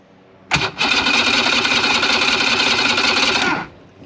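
A 70 HP two-stroke Mercury outboard engine is cranked by its starter in a single loud burst of about three seconds. It churns steadily and does not catch.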